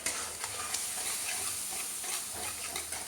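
Cumin and coriander spice masala with a little sugar and water being stir-fried in a pan, a steady close hiss and sizzle with faint scraping of stirring throughout.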